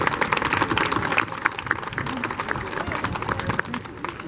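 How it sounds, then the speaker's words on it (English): Audience applause for the team who built a newly opened facility at an inauguration ceremony: dense, steady clapping from many hands fills the whole stretch at an even level, with no pause. "let's give them a round of applause"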